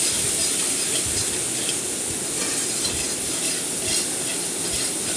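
Masala spices fried in a pan with a little water added, a loud, continuous sizzle and hiss with steady stirring scrapes close up, and no talking.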